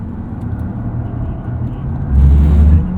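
A 2023 Porsche Taycan Turbo electric car driven on a track at the Porsche Experience Center gives a low steady road and motor hum that swells louder for a stretch toward the end, with no talk.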